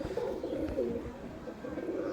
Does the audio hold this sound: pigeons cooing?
yes